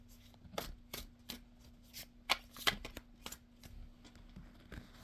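Tarot cards shuffled by hand in a quiet room, a steady run of soft riffling bursts and slaps, close and fairly quiet, with no talking.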